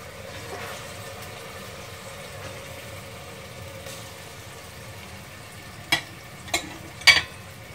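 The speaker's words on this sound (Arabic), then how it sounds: "دابا البنات غادي ندير القطعه ديال الدجاج ديالي تشحر كامله هكا" A chicken piece sears in a hot pan, making a faint, steady sizzle and crackle, with a few sharp clicks and taps near the end.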